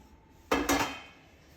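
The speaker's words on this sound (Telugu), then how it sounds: "ఇప్పుడు ఇదంతా బాగా కలిపేసుకుందాం మంచిగా బెల్లం పాకం మంచిగా మన పిండికి కలిసేటట్టు మంచిగా కలుపుకుందాం" A utensil clanks twice in quick succession against a pot while sunnundalu flour is being mixed with jaggery syrup. The clatter is close and clear, then rings away into quiet.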